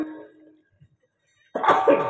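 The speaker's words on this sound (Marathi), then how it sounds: "असंच खोकलं होते" A man coughs at a devotional kirtan gathering: a short vocal sound at the start, near silence, then a loud harsh burst of coughing close to the microphone at the end.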